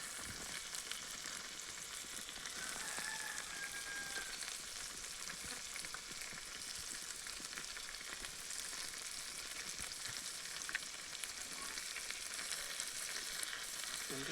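Spices and chicken masala sauté in a pan over an outdoor fire for a village-style chicken kosha, a steady close sizzle and crackle with occasional stirring scrapes and no talk.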